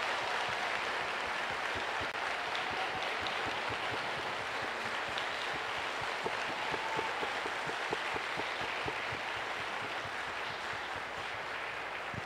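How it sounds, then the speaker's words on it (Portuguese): Church congregation applause in a parish of São Paulo Apóstolo in São José dos Campos, faint and distant clapping that keeps an uneven, sparse rhythm throughout, heard alone under room ambience. "Vamos dar uma salva de palmas."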